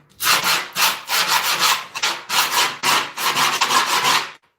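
A hand tool scrapes hard along the edge of a skateboard deck to score the grip tape, producing loud, close, rhythmic rasping strokes, roughly eight back-and-forth passes in quick succession with no talking.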